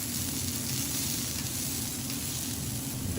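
Giant sliced garlic chips sizzling on a steakhouse grill in Japan, a steady bright hiss of frying oil, fairly quiet and continuous with no voices.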